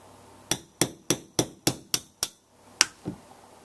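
A hammer taps a punch into an AR-15 bolt, giving seven sharp metallic strikes in a quick, even rhythm, then a pause and two more taps, the last one softer. The tapping is close and clear, with no voices.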